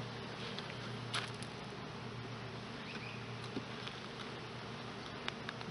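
Honeybees buzz around an open hive with frames pulled out, a soft, continuous hum close by, with occasional light taps and rustles over it.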